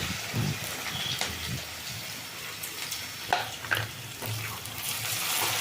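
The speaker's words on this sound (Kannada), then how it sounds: "ಇದೆಲ್ಲ ಚೆಂದ ಫ್ರೈ ಆಗಲಿ" Carrot, potato and beans fry in hot oil with green and dry chillies, a close, steady sizzle broken by occasional stirring scrapes and soft knocks against the pan.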